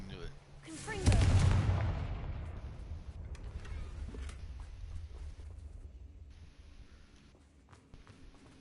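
Confringo fire spell in Hogwarts Legacy, one loud, booming blast near the start that rolls off into a long, fading rumble with faint crackles afterward.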